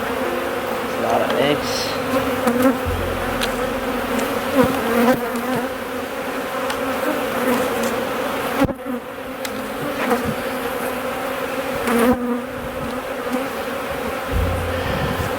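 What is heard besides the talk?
honey bees buzzing around an open hive box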